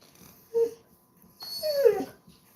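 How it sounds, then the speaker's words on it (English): A Basset Hound gives two short vocal outbursts close by, a brief yelp followed by a longer whining, barking sound, with quiet between them. "barking at me like that don't really accomplish anything"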